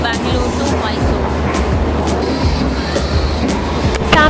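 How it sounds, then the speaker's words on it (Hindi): A local train on the Bangalore to Mysore line stands at a busy station, its low rumble and rhythmic clanks close and continuous, with crowd noise, occasional clicks and a brief squeal over the top. "सामने आप जो ट्रेन देख रहे हो, यही है वो लोकल ट्रेन"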